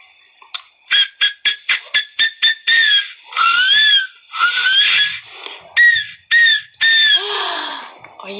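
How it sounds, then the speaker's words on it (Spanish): A small handmade whistle is blown in a rapid series of short shrill toots, then longer warbling, sliding blasts, loud and piercing with some breathy noise. "Y tengo entonces este silbatito."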